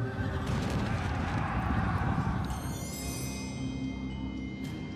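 Cavalry horses at an ancient battle whinny loudly over a dense, rumbling background of hooves and commotion, the neighing rising clearly throughout.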